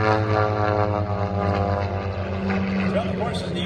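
A propeller race airplane drones past at the National Championship Air Races in Roswell, New Mexico, a loud sustained engine tone holding through the clip while a commentator talks over it.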